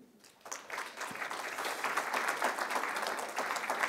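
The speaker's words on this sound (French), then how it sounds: "Merci de l'applaudir" Applause breaks out for a panelist at a French asset management conference, swelling quickly into steady, even clapping from a sizeable room and holding at that level.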